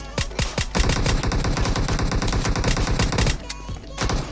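Video game gunfire in a shooter, a first-person office fight: rapid automatic bursts, a few spaced shots at first, then a dense close volley with a brief pause before more fire.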